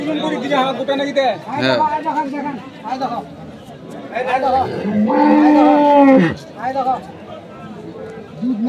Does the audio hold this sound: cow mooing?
yes